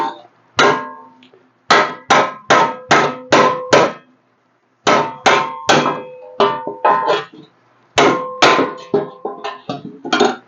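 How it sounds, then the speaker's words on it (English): Repeated metallic hammer blows on a Mustang's rusted car panel in quick bursts of four to six strikes, separated by short pauses, loud and close with ringing tones. "Just hammer it out a little bit more."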